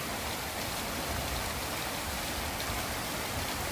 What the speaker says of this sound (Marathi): पडत असलेला पाऊस बघत आहात.